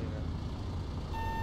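Bus reversing beeps in the Bus Driver video game, a steady high tone entering near the end over a constant low engine rumble, with no talk.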